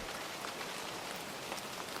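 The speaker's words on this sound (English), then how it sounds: "The rain ran down the outside pane in long, unbroken beat." Steady rain streams down a windowpane outside an old Dublin shop, a dense, even hiss of drops with no pauses.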